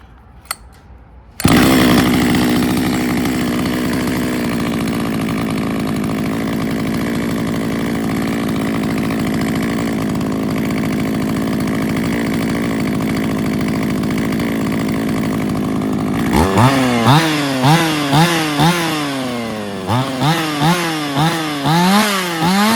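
A Zenoah G2501T top-handle chainsaw fires up and runs at a steady, loud idle for about fifteen seconds, then revs in a series of rising and falling throttle blips.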